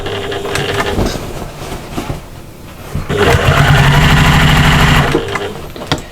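A sewing machine joins the outer fabric of a cross body bag to its lining, running in loud, close bursts of rapid mechanical whirring with a brief slowdown between runs and a pause near the end.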